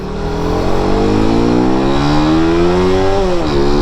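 A tuned motorcycle engine revved hard toward 11,000 RPM, a loud, close, continuous high-pitched wail whose pitch climbs steadily, then dips and recovers near the end, with no talk over it.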